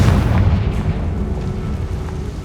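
The Confringo fire spell in the Hogwarts Legacy video game goes off as a loud, close, rumbling explosion with a deep boom that rolls on steadily for a couple of seconds without fading much.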